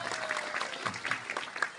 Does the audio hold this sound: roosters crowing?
no